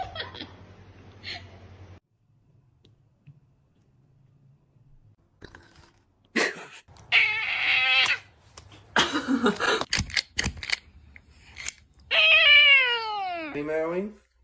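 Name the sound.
cat meowing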